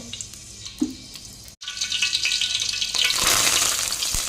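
Curry leaves hit hot ghee mixed with coconut oil, bursting into a loud, steady crackling sizzle that briefly cuts out, then swells and intensifies, close up with no voices.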